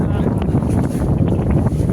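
Wind buffets the hilltop at the Pavagadh Mahakali temple, a constant low, roaring rumble of gusts close to the microphone that lasts throughout.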